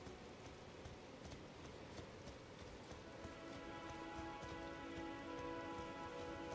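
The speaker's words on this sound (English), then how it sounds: "It's raining now." Steady rain falling in the open-world fantasy game Elden Ring, a soft continuous patter of drops on the ground that swells slightly over several seconds, heard alone without voices.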